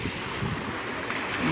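Steady, heavy wind buffeting the microphone with a constant low roar, plus a faint wash of sea in the background, at the seaside in Odesa.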